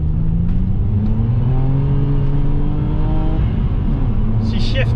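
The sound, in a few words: Vectra car with hybrid turbo accelerating and shifting gears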